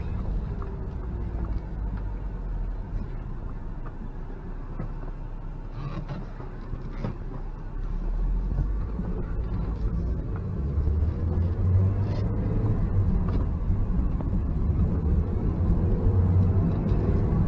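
Low engine rumble of a 2005 Toyota MR2 Spyder with a clutchless sequential manual gearbox, driving and building in revs, the drone swelling louder toward the end with no talk.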